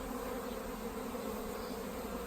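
A dense swarm of bees at a hive makes a continuous, even, close buzzing drone that holds steady throughout, with no voices.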